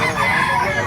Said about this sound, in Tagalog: gaganda ng mga manok ito